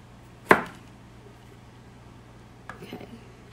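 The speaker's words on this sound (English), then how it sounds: "I'm just kind of cutting it up and a little bit, I guess, like bite-sized pieces." A knife chops broccoli for chicken divan into bite-sized pieces, giving one sharp close cut on a board followed by a few softer, quieter cuts, with a faint background hum.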